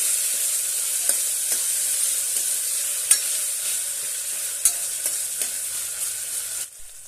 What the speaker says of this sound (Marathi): आता यामध्ये एक टोमॅटो बारीक कट केलेला आहे तो घालूया आणि छानपैकी परतून घेऊया